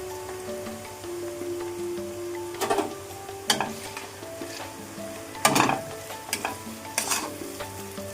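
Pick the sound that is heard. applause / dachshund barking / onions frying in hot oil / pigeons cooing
onions frying in hot oil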